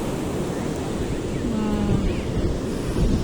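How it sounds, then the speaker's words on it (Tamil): Strong wind gusting across the mic by the sea, with a constant rushing roar and surf beneath it. "கடற்கரையில் நல்லா குழுக்குழுன்னு காற்றடிக்குது"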